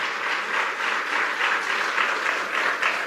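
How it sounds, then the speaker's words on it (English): An audience at a national conservative student conference applauds, a steady, even wash of many hands clapping at moderate volume throughout, without speech on top. "Give yourselves a round of applause."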